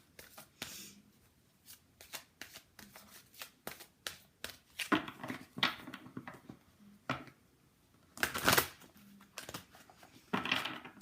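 A deck of Doreen Virtue romance angel oracle cards being shuffled by hand, bursts of quick riffling flutters and soft slaps in irregular groups, close and fairly quiet with no talk.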